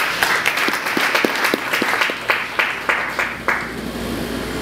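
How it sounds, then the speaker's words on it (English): A church congregation claps in praise, a run of distinct, fairly loud claps in a loose rhythm over a few seconds, with a room hum underneath and no talking. "Can we give God a clap of praise?"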